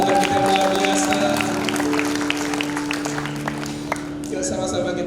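A congregation at a GBI church service claps for several seconds, the applause blending with sustained music tones and fading slightly near the end.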